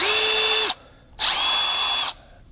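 Milwaukee 1/4 inch Fuel bit driver running in two loud, high-pitched bursts, the first about three-quarters of a second and the second nearly a second long, separated by a short pause, with no talk.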